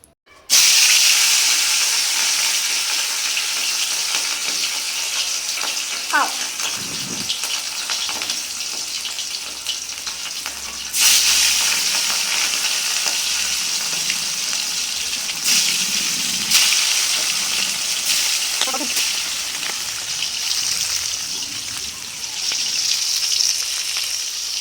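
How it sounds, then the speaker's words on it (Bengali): Hilsa fish pieces fry lightly in a pan for mustard hilsa, giving a steady, moderate sizzle and hiss with occasional louder bursts as the pieces shift, close by and without talk. "হালকা করে আমি মাছগুলো ভেজে নেবো।"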